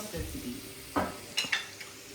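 Onion fries in oil with a soft, even sizzle, and a few sharp utensil clinks against the pan come in the second half.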